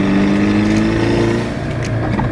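A car fitted with a new solid transmission mount pulls away, its engine droning and humming steadily with a low, slightly vibrating tone, close and fairly loud.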